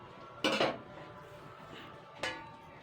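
A steel bowl is set over a pan of masoor dal and Malabar spinach, giving two quick metallic clatters a couple of seconds apart over a faint background hiss.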